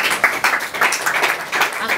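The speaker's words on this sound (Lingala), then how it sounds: "Est-ce qu'on peut acclamer la fondation?" Audience applause at a foundation gathering, a dense wash of clapping hands that runs the full two seconds with small swells, fairly loud and close.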